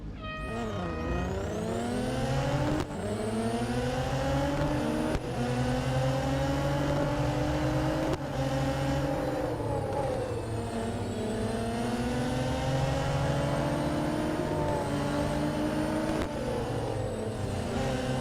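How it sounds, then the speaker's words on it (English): Eight similar race cars roar together in Real Racing 3, a continuous loud engine drone with rising and falling revs and gear shifts, layered game music and effects throughout. "We're straight in with a full set of 8 racers."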